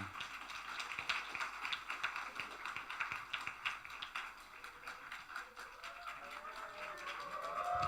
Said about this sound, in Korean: 나올 때 우리 격려의 박수 부탁합니다